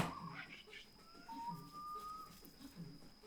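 Bird whistling in the jungle night level of the video game 3 Pandas 2: a thin, faint rising whistle note over soft background game sounds and murmured voices.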